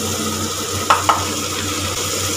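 Ginger paste and ground cumin frying in a pan with salt for a prawn dopiaza, giving a steady close sizzle with two brief stirring clinks in the middle.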